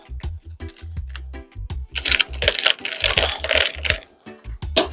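A knife cuts into a whole watermelon with a series of crisp, close cracking and crunching sounds, building into a denser ripping crunch in the middle before a few final sharp snaps.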